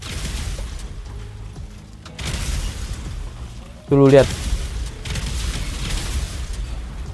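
Sudden loud explosion in a video game near the player's car, a short booming burst amid a man's excited chatter.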